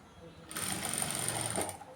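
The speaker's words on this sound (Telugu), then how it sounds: "ఇలా నీట్గా సర్దుకుంటూ అనగుడు కూడా కుట్టు వేసుకొని రావాలండి" A sewing machine stitches the back neck of a blouse, a steady close mechanical whirr that starts after half a second and runs for over a second before slowing, with no speech over it.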